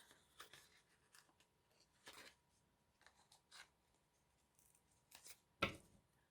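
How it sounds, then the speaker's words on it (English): Scissors snip paper in a few separate short cuts while trimming an old book page for a junk journal pocket, quiet and close, with one sharper, louder clip near the end. "I'm just going to clip a little bit of that away so it doesn't stick over the edge so much."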